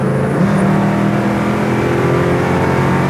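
A 1968 Chevy Camaro V8 holds a steady high rev near 5,600 RPM, a loud, continuous engine drone with no break across the few seconds and no voices.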